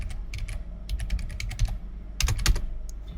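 Fingers type on a computer keyboard in quick irregular bursts of close, crisp key clicks, with a short pause midway before another flurry.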